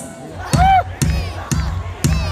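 A crowd yells and cheers in rhythmic bursts, about four loud shouts in quick succession, with a high voice rising above the noise.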